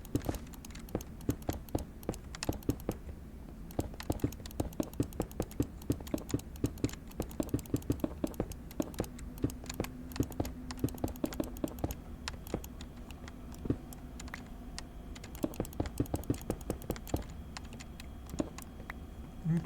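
Mouse clicks while playing Minecraft: rapid, sharp, close taps in an irregular steady stream, fairly quiet, with no talking.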